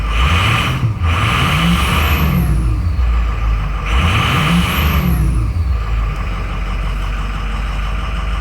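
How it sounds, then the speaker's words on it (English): A 2006 Ford F-250 King Ranch pickup engine revs up loud and close in two strong rising sweeps between steady idling, with a brief hiss like an air release after each rev. "This truck runs and drives very well."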